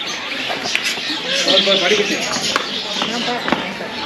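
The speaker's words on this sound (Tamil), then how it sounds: "இது ஃபுல்லாக லவ் பேர்ட்ஸ்." Lovebirds in an aviary at a bird park chirp and tweet in busy overlapping calls nearby, while people talk over them throughout.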